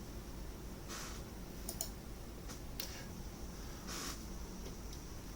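A computer mouse clicks the save button in an Excel practice task: a handful of soft, faint clicks spaced irregularly over a quiet background with no talking.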